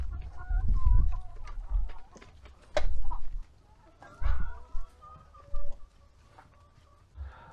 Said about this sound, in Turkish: Buradaki tavukları dışarıya çıkarttım.